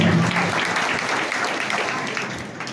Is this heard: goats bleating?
no